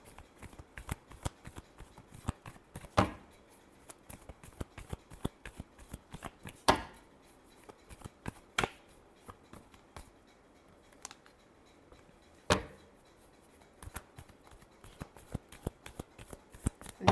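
Tarot cards being shuffled by hand, a long run of quick papery flicks and riffles with a few sharper slaps, close up and alone without talk.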